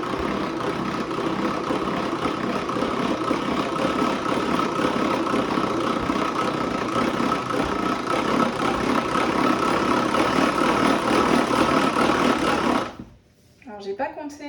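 An electric kitchen mixer whipping egg whites on its lowest speed setting, a steady unbroken motor whir that holds for about thirteen seconds before stopping abruptly, with a voice talking over it.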